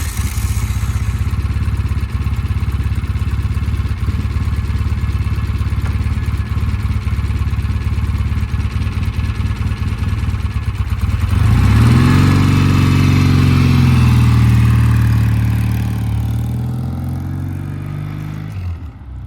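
A Norton motorcycle on a test ride runs at a steady, rough idle, then revs up loudly and pulls away. Its engine note rises and falls before fading as it rides off.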